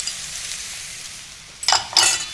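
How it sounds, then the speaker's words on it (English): Beaten egg is scrambled in a hot wok with stir-fry noodles, a faint steady sizzle followed near the end by two sudden bright scraping bursts as the pan is stirred. "Egg, I'm whisking quite well there, and I'm simply just going to scramble this"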